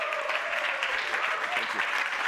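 Steady, dense audience applause filling a conference hall at the World Economic Forum in Davos as a speaker takes the stage, continuous and fairly loud with a faint voice over it.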